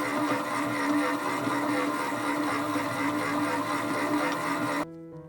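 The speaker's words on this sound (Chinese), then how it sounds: "先低速搅拌， 等见不到干粉就可以调成中速。" A stand mixer churns bread dough of eggs and milk for coconut bread rolls, a steady close whirring motor hum at low speed that runs evenly for several seconds, then cuts off abruptly near the end.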